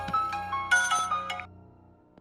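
A phone ringtone plays a melodic electronic tune, several bright repeated phrases over about a second and a half before cutting off, loud and alone with no talk.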